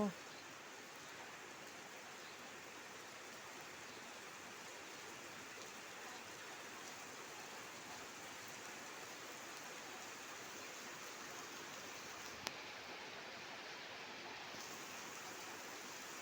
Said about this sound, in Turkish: Valla dolu gibi yağıyor.